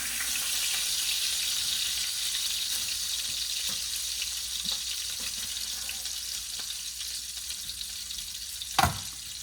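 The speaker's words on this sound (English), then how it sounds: "Just a quick sear in the hot butter, just to get a nice shell on them." Rainbow trout sears in hot butter in a pan with a loud, steady high hiss, close and continuous, broken near the end by a single brief knock.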